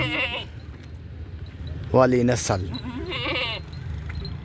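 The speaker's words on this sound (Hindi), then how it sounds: "इसको कहते हैं बकरी नंबर 1, 3 लीटर दूध देने वाली।" A dairy goat on a goat farm in Rajanpur bleats in short wavering calls, near and fairly loud, with someone talking over and between the cries.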